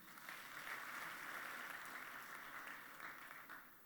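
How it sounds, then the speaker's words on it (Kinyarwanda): A church congregation claps together in praise at an Easter sermon, a faint, steady wash of many hands that holds for several seconds and tapers slightly at the end. "Tumukomera amashyi."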